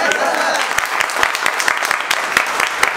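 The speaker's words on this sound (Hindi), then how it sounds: "इस बात के लिए भी ताली बनती है" Students in a classroom of about thirty clapping together, with distinct sharp claps in a quick uneven rhythm, close and loud, while voices murmur beneath.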